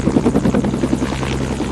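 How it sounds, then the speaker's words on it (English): Helicopter rotor thumping rapidly and steadily as a video-game helicopter hovers, a loud continuous chop over a low engine hum with no voices. "It will make your helicopters have hovering."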